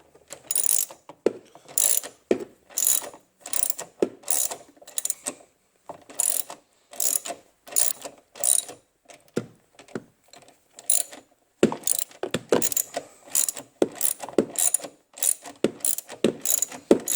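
Ratchet with a 1/2 inch socket turning strut mount bolts during a front strut tower brace install on a BMW X5 E53, heard as repeated close bursts of rapid clicking, roughly a dozen strokes separated by brief pauses.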